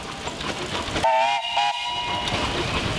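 Whistle of a 22-horse Keck Gonner double-cylinder steam traction engine at a Midwest steam show: two clear, steady blasts back to back, loud and near over outdoor background noise.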